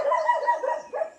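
A dog at a village home in Konkan gives a short, close, strained whining yelp that rises and wavers for about a second, with no human talk.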